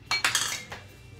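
Metal cutlery clinks against bowls and a pot while chocolate mousse is being prepared, a few sharp, quiet taps close together, then one more clink.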